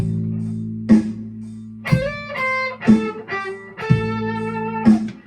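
An electric guitar plays a low repeating riff, with a higher note slid into roughly every second, overdriven and close, no talking.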